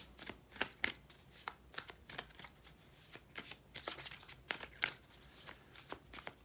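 Tarot cards being shuffled by hand, a run of soft papery riffles and flicks coming in uneven bursts, close and fairly quiet with no talking.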